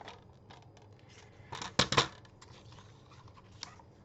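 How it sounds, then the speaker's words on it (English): Scissors cut a sheet of Luxe Gold card stock down to A2 card size, with a few quiet crisp snips clustered together in an otherwise quiet room. "I'm going to go ahead and cut this to an A2 size."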